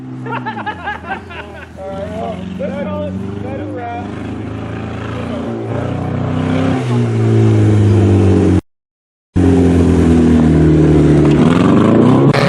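Race cars at a dirt track roar off the start of a 15-lap feature race, a loud sustained engine drone building in pitch, with a crowd murmuring and people talking near the microphone.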